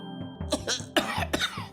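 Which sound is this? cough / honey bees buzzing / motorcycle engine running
cough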